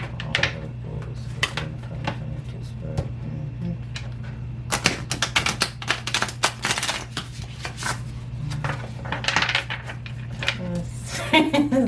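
Tarot cards shuffled by hand during a reading, crisp riffling bursts and soft card slaps in irregular clusters, close, with a low steady hum underneath and quiet talk here and there.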